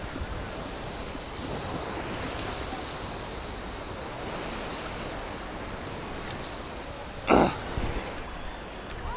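Steady wash of sea waves and wind along a beach, filmed on a GoPro Session, a continuous broadband roar with a brief louder knock near the end and no talking.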